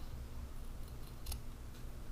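Scissors snip through a fabric tie to cut it in half, giving a few faint, quick crisp snips over quiet room background.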